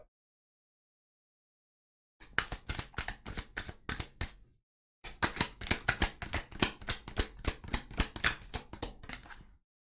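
Tarot cards being shuffled in rapid riffling bursts, a short run of clicks, a pause, then a longer steady flurry of crisp card snaps, close and clear with no talking.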